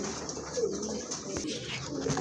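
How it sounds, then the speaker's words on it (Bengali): A pair of good-quality caged pigeons gives a soft, brief coo, faint and close against quiet room noise. "খুবই ভালো মানের এক জোড়া কবুতর"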